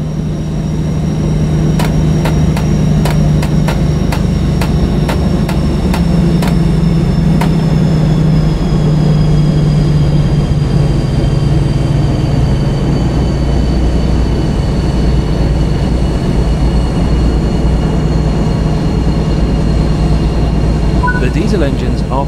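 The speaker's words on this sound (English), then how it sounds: "But we need to run down the diesel engine before the power can be cut completely." A DB BR 218 diesel locomotive in Train Sim World 4 running its engine down, a steady loud low drone with a slowly falling whine, joined early by a quick series of sharp metallic ticks, continuing for over twenty seconds.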